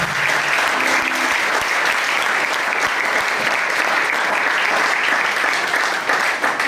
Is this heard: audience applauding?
yes